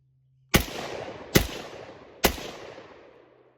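An SKS rifle fired from a magazine: three sharp, loud shots at roughly one-second intervals, each followed by a fading echoing tail, with no talk.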